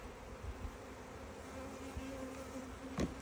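Honeybees buzz steadily in an open hive during an inspection on a mild day of about 16 to 17 degrees, a continuous hum with a few brief louder passes of single bees close by.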